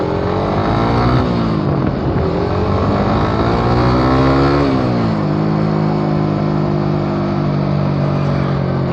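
A Suzuki Raider motorcycle engine revving hard through gears on the road, a loud, close buzzing whine climbing in pitch, dropping at a shift and climbing again, then settling into a steady high drone.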